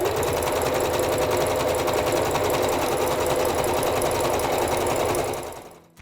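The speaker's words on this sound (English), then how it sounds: "We have sewn the band at 1/4 of an inch" Sewing machine stitching a sports bra band through three layers of fabric at a quarter-inch seam, a steady, close, loud whirring run of rapid stitches that stops abruptly near the end.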